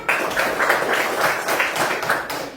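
A class of pupils applauds a classmate, a dense burst of hand claps close by that rises and fades over a couple of seconds.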